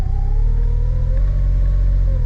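A 2026 Can-Am Defender side-by-side idles with a steady low rumble, its engine note slowly rising as the throttle is pressed gently and the clutch begins to engage, close and continuous with no talk.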